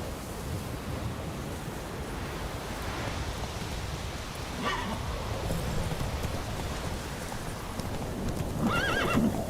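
Roach, a horse in The Witcher 3, runs with steady clip-clopping hoofbeats over wind and surf-like ambience, then gives a clear whinny near the end.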